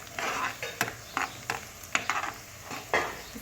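Onions sautéing on a tawa give a light sizzle under repeated scraping strokes of a spatula, each stroke a short rasp with clicks of metal on the griddle, close and uninterrupted by talk.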